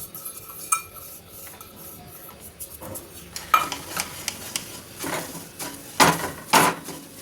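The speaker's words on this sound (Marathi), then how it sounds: "आता आपला रवा चांगला भाजून घ्यायचा आहे याच्यात." Fine semolina roasting for carrot ladoo is stirred in a pan, with a soft low sizzle under irregular scraping strokes and metallic clinks of a spoon that grow louder and more frequent toward the end.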